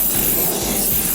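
Gumout parts cleaner and degreaser sprayed onto a pedal box, a steady loud aerosol hiss running the whole moment with no pauses and nobody talking.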